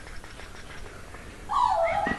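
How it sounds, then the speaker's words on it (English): Soft background rustling near a puppy gives way to a short, loud, high whimpering whine near the end, rising and falling briefly before it fades. "That's a nice puppy."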